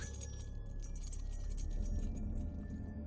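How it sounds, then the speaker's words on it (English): Car keys jangling as a man fumbles with shaking hands to unlock his car, a close, continuous metallic chinking and rattling lasting a few seconds, with no voices. "He ran to his car, fumbling with the keys, his hands shaking so badly he could barely get them in the lock."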